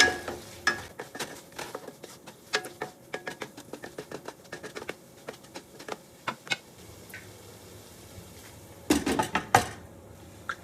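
A spoon scrapes and clinks in a pan as fennel powder is stirred into chicken rice. The taps are quiet and irregular, with a denser flurry of stirring toward the end and no talking.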